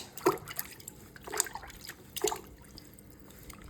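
Water trickles and splashes in three short bursts as skin is rinsed clean at home after a body polish, each pour brief and close with quiet gaps between.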